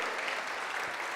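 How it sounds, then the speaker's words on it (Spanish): Church congregation clapping together in a steady, dense wash of applause, moderately loud and continuous with no voices over it. "Démosle un fuerte aplauso a nuestro Señor"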